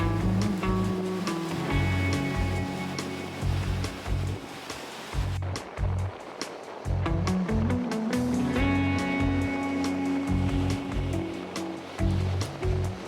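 Ocean waves breaking on the beach at Port Hueneme, California, a steady roar of surf with rolling low swells rising and falling over about thirteen seconds, no voices.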